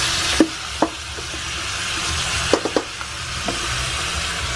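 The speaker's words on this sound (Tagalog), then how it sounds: "Haluin natin sa aking sandok." A ladle stirs vegetables for Java curry in a pan, each stroke clacking and scraping against the metal over a steady background sizzle, with several sharp knocks spaced irregularly.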